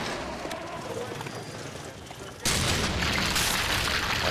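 Enemy exploding in the game Bioshock: a sudden loud burst partway through cuts into quieter game ambience, then a dense rumbling roar carries on to the end.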